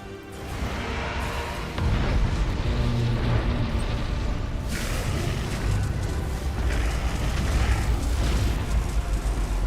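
A ship blowing up in the space strategy game Battlefleet Gothic Armada 2, a loud sustained rumbling explosion with crackling bursts that swells after a couple of seconds and roars on without letting up.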